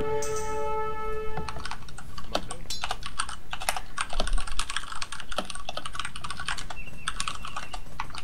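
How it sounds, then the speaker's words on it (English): Rapid clickety-clack of mechanical keyboard typing, close and continuous, with a brief tonal sound at the start and no talking. "keyboard does sound a bit different. Sounds more clickety-clackety. That's right, that's a mechanical keyboard."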